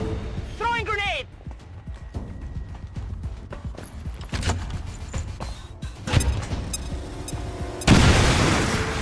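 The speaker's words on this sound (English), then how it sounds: "Throwing grenade!" Grenade detonations in XCOM 2 on PlayStation 5 during a firefight in an Advent facility: several sharp booms and bursts among scattered impacts, with a heavy blast near the end and voices talking over the action.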